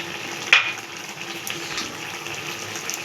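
Pounded ginger, garlic and chilli frying in a pan while being stirred, a steady broadband sizzle running throughout with a brief clatter of the spoon near the start.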